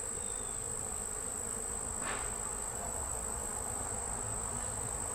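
A quiet, continuous honeybee buzz hums against a faint outdoor background at an open hive, steady and unbroken.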